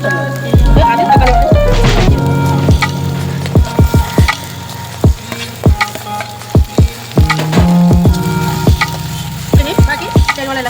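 Vegetables hitting a hot pan for a veg biryani (carrot, capsicum, tomato, beans, peas, green chilli) give a loud, steady frying sizzle, broken by repeated sharp clatters and stirring knocks throughout.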